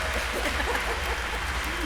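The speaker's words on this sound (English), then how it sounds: "You're applauding a date." A large crowd at a Sherlock panel at London MCM Comic Con applauds and cheers, a dense, steady wash of clapping that carries unbroken and loud through the whole moment.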